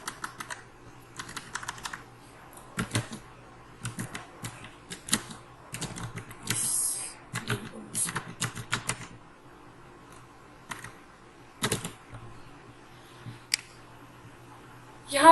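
Typing on a computer keyboard, entering text into a document, comes as soft, close clusters of quick keystrokes separated by short pauses, with no talking.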